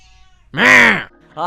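A single loud, drawn-out cat meow from the video game OFF, close and clear, followed by a short electronic tone.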